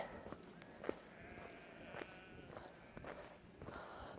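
Faint sheep bleats come and go over an open, breezy moorland background near the Widdop and Gorple reservoirs in Yorkshire, with a few soft footsteps and distant calls.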